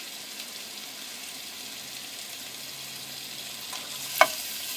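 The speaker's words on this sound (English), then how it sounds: "we're going to go ahead and add our garlic to our oil" Garlic frying in hot oil, a soft steady sizzle throughout with a single sharp utensil clink near the end, no talking.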